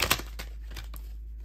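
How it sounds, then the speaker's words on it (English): A deck of tarot cards being shuffled, with a few quick papery riffles and flicks close up, faint and brief, no talking. "Okay, I'm gonna shuffle one more time."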